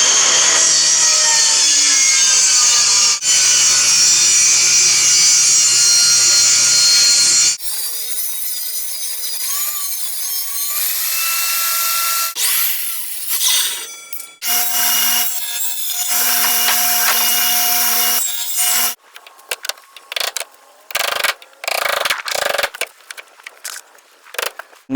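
A saw rips treated privacy fence boards lengthwise down the middle, loud and close, with a sustained high whine and grinding cut, then pauses and shorter bursts of sawing, ending in choppy splintering cuts.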